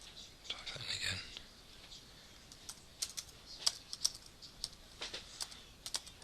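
Clicks of a computer keyboard being typed on in short bursts while figures are entered for a maths exam calculation, soft and fairly close, with a brief rustle near the start.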